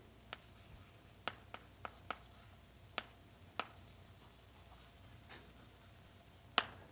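Chalk or marker taps and scratches on a board during a university lecture on partial differential equations, as a series of sharp, isolated clicks spaced irregularly over a faint steady room hum, with no speech.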